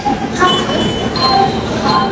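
A train rolls through Tilak Nagar station with a loud, continuous rumble, faint metallic squeals and clinks riding over the steady roar.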